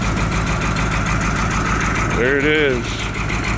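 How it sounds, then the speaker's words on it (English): An old Caterpillar 3208 diesel in a 1980 Chevy Kodiak truck cranks and catches, then settles into a loud, steady rumbling idle close by, with someone briefly speaking over it. "It's a cat motor. The old 3208."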